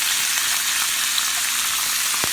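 Asparagus frying in bacon grease in a cast iron skillet, a steady, close crackling sizzle with small pops throughout.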